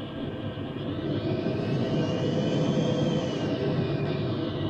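An F/A-18 jet taxiing on an aircraft carrier deck in a flight simulator game, a steady loud engine roar with a faint rising whine and no break.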